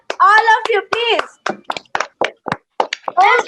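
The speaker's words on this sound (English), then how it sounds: "all of you, please clap for Ansuman" Schoolchildren clap for a classmate during a class talent event, with scattered sharp claps mixed among overlapping children's voices talking close by.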